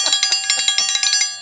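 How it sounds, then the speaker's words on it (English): A metal triangle rung rapidly during church midweek announcements, about a dozen bright, ringing strikes in a quick even roll, loud and close, with the shimmer sustaining between hits. "Ring the triangle."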